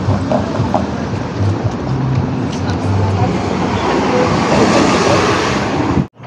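A train rolling through Bathurst Station in downtown Toronto, a steady loud rumble with rail noise that holds for about six seconds and then cuts off sharply.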